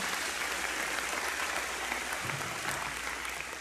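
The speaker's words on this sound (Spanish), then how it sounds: "dale un aplauso fuerte" Church congregation applauding the King during a Spanish-language sermon, a steady, dense wash of clapping that holds at even strength throughout without any voices.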